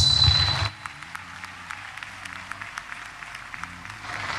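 Applause for the commencement speaker at a university graduation ceremony, a full burst that drops sharply after the first half second, leaving thinner scattered claps from the audience.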